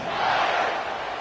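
A stadium crowd roars at a college football game between Auburn and Texas, giving a brief, dense, sustained cheer that sounds broad and distant.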